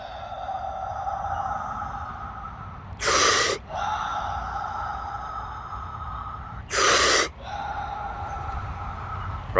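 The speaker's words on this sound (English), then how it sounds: "Your breath goes rapidly on the inhale and slowly on the exhale." Two sharp, rapid breaths are drawn in about four seconds apart during a breathing exercise. Each is followed by a softer, longer exhale over a steady background hum.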